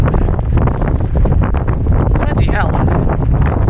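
Heavy wind buffets the microphone at a half marathon race car park, with loud, rumbling low-end roar throughout, while a person briefly exclaims over the noise.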